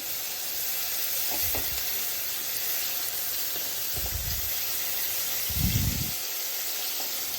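Spice masala paste fries in ghee and oil for a stuffed tinda curry, a constant soft sizzling hiss broken by a few louder bursts of spattering.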